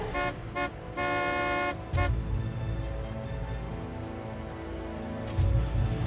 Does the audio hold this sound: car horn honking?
yes